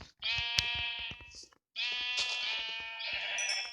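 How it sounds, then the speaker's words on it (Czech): Sheep in Minecraft bleat twice in a row, each a loud, wavering baa lasting over a second, separated by a brief pause, with soft clicks between. "a zrovna tady máme ovce."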